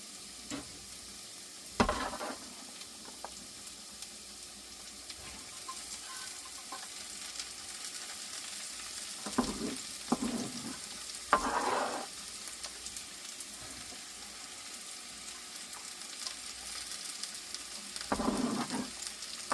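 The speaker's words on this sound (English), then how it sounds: "Go ahead and add some of these onions on in here." Onions for an Appalachian cornbread stuffing sizzle quietly in a pan, a steady hiss broken now and then by brief bursts of stirring and scraping.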